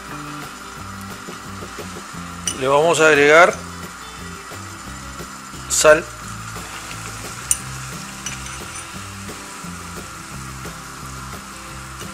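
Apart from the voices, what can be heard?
pot of water boiling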